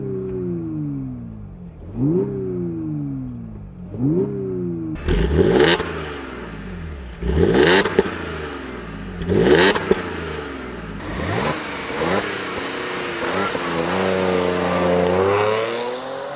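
A 2014 Audi S4 Quattro accelerating hard on a racetrack, its engine rising through several rev climbs with sharp gear changes in between, loud and close, the pitch finally settling into a sustained high drone.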